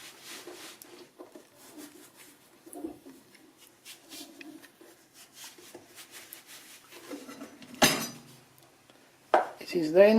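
A knife cutting a rolled sausage of proven Chinese dumpling dough into small pieces: soft, scattered taps on a board at an uneven pace, then a sharper clatter near the end.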